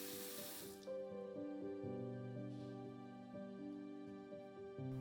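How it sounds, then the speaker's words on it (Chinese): A hotel washbasin tap on Phu Quoc, Vietnam, gushes briefly as its water pressure is tested, a short hissing spray that cuts off after under a second and leaves soft background music. "首先检查脸盆水压是不是正常。"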